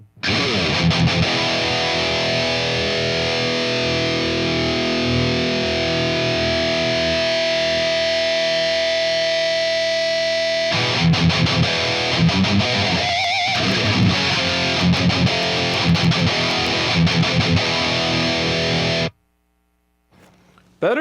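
Electric guitar played through a Marshall TSL 100 amplifier with a Grid Slammer overdrive pedal, level maxed, gain minimum, tone fully up; loud, sustained distorted chords and riffs for about nineteen seconds, then a sudden cut to near silence.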